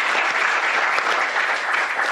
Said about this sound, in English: Let's give them a hand of